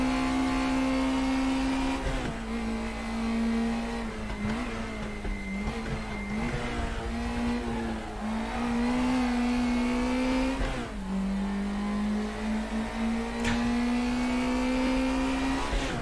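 Race car engine in the RaceRoom Racing Experience video game, loud and continuous, revving up and down through gear changes with a steady droning tone and a brief dip near the middle, with no talking.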